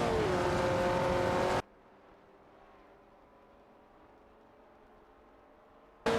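Race cars in a racing video game with a Dodge Charger Super Bee 71 and a De Tomaso Pantera GTS 72 roar loudly, cut off abruptly to near silence, then the engine noise bursts back at the end.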